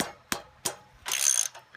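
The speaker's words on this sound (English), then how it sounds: "so really all you need is this ratchet." Ratchet working a 9/16 carriage bolt on a landscape rake tang: three close clicking bursts, two sharp separate clacks followed by a longer rattling run of pawl clicks, with no talk.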